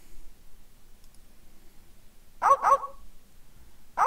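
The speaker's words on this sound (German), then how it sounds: "Da sind Hunde und die bellen auch." Piranha poodles bark in the video game The Secret of Monkey Island, with two quick sharp barks close together and then a third after a pause, all over a near-silent background.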